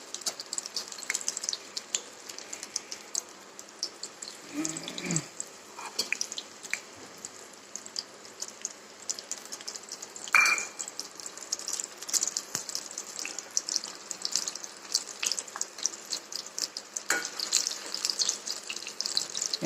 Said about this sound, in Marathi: आता छान तळून फुगून येतात चांगले